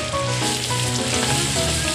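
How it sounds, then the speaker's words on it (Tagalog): Garlic frying in melted margarine in a pan gives a steady, close, crackling sizzle that continues evenly for two seconds, with no voices. "Ilalagay na natin yung garlic."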